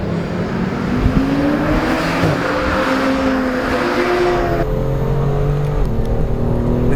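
A BMW M2 engine revs out on the Laguna Seca race track, a loud, continuous rising engine note with gear-change steps, heard from inside the car with no talk.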